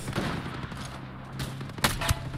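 Gunfire rings out in the tactical shooter game Ghost Recon Breakpoint: a short burst of shots, with the loudest cracks near the end, over a constant low background rumble.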